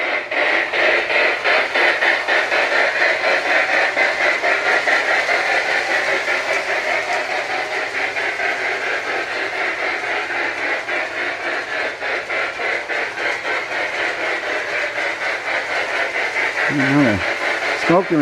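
Marx 1666 toy train with a Sound-O-Power tender, running with a continuous rapid chuffing rhythm and motor hum, close and steady for the whole stretch.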